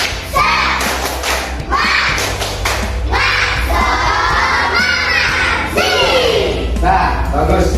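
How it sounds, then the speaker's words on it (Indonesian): Schoolchildren in an Indonesian elementary classroom chant and clap together in a rhythmic spirit cheer, loud and close, with repeated bursts of shouting voices and claps in a steady pattern throughout. "Tepuk semangat"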